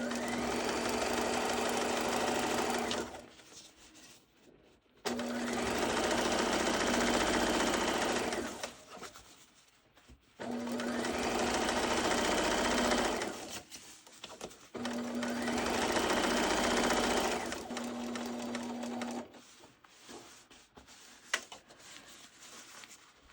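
A sewing machine back stitches along the bottom edge of a turned-over fabric hem, running in four steady, whirring bursts of a few seconds each, with short pauses between them, then stopping, heard close and alone.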